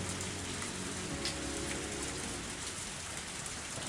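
Heavy rain pours down steadily in the visual novel Higurashi When They Cry: Tatarigoroshi, a dense, unbroken downpour at a soft overall level with no voices.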